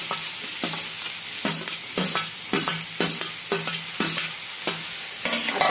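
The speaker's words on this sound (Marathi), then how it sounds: "आता आपण सर्व शेवट भेंडी टाकून घेऊया." Okra is stir-fried in a hot pan for a vegetable side dish. A loud, steady sizzle runs throughout, broken by regular scraping strokes of a spatula about once per second.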